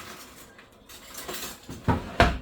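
A heavy cast iron pan is handled on a kitchen stove while making salsa verde, giving a few scattered clanks and scrapes that end in two sharp metallic knocks.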